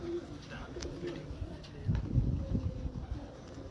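Soft, low cooing of flying pigeons in Multan rises amid a murmur of background noise, a few gentle coos clustering near the end.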